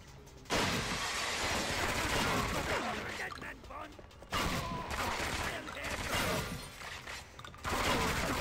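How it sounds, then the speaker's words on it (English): Shotgun blasts in 007 Agent Under Fire during a Mediterranean Crisis mission, loud broadband bursts around busy game combat noise, with a voice speaking over it. "I might use a shotgun this time."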